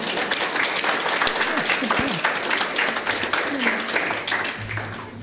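Sustained audience applause at an emergency care conference session, a loud, even roar of many hands clapping throughout with little change in level.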